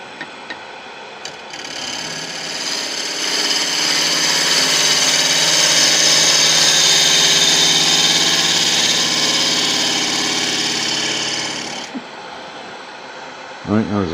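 A wood lathe spins a bowl held on a worm screw while a compound curve is cut, a sustained whirring hum with scraping that swells for about ten seconds then stops, with a voice speaking around it.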